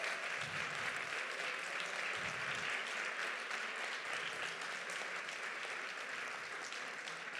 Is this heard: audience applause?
yes